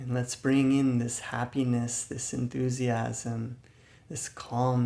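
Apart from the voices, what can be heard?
No everyday noise stands out behind the speech.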